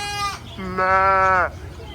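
Two bleats from a goat close by on a farm in Sharjah Desert Park, a short one followed by a longer, wavering cry, with faint background noise.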